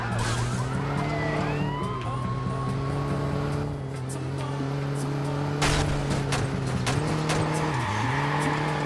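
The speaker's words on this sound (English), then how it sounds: "This is like a Lamborghini or something" Lamborghini-like sports car driven in the video game Watch Dogs, its engine droning steadily and loudly with rising revs, tire squeals and a siren-like wail mixed in throughout.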